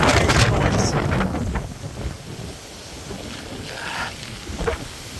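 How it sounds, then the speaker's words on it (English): Strong wind from Hurricane Ian buffets the microphone in loud, rumbling gusts, with a steady roar of rushing air and floodwater underneath. "So as you can see, it is now a lot more windy."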